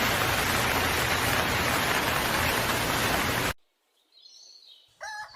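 Heavy rain pouring down through the night, a loud, dense, steady hiss that stops abruptly partway through and gives way to near silence and faint bird calls.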